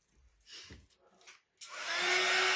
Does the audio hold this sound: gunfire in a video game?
no